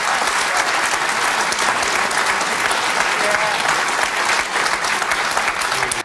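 A studio audience at an evening show breaks into loud, dense applause that holds steady and close for the whole stretch, with no talk over it.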